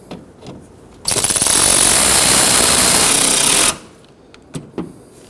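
A power tool runs in one sustained, loud burst of about three seconds, snugging down the bolts on the AC condenser of a 2015-2024 Ford Edge 2.0L L4, with a few faint clicks and taps before and after.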